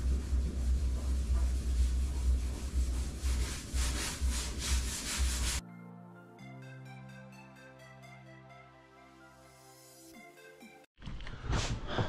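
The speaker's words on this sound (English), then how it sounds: "It's been an hour since I started sanding" Paint on the hood of a Mercedes-AMG CLS55 is sanded by hand with loud, close, rapid scratchy strokes for about five seconds. Music then takes over.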